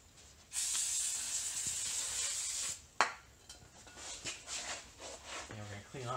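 Several hissing bursts from a spray bottle of cleaner onto paper towel for wiping brake rotors, close by, the first a long steady spray followed by shorter pumps, with some rubbing noises.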